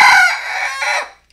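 A Rhode Island Red rooster crows once, loud and close: a bright, strained cock-a-doodle-doo lasting about a second, then silence.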